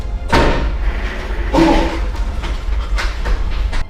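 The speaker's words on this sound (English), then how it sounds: "a door opened and closed by itself." An unseen door swings open and slams shut with heavy thuds and creaks, several knocks and bangs spread over a few seconds in a quiet room.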